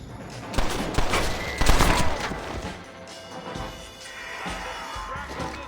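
A Western gunfight in Red Dead Redemption erupts in a burst of rapid, loud gunshots and cracks, then trails into scattered fainter shots and ambient battle noise.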